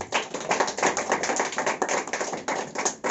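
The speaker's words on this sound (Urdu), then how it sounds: "خداون کے لیے زوردار تالیاں بجائیں" A church congregation applauds in praise of God, a steady, dense patter of many hands clapping at close range, with no talking.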